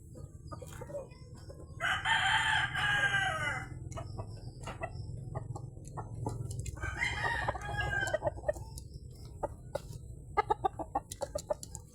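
Class A gamecock roosters from Silay, Negros crow loudly in two long calls, with scattered clucks and short clucking bursts in between and a rapid run of clucks toward the end, against a low background hum.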